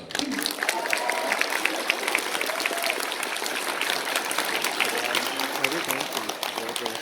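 Audience applause at a fan convention panel, a dense, steady wash of clapping from a crowd that holds for the full stretch, with a few voices mixed in.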